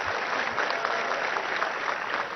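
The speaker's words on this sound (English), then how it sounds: "I think you should welcome him with a good round of applause, Prashant Reddy Gariki." An audience at an international engineering and technology conference applauds, a continuous, even wash of clapping from many hands heard at a moderate level.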